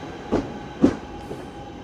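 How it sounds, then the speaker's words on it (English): A train pulling away from a single-platform station at the end of the Glossop line, two rhythmic wheel thumps over the rail joints then a fading rumble, moderately close. "As this train's departing anyway"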